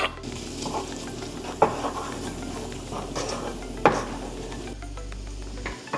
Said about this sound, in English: once that butter's nice and melted, you want to put your spring onion in there.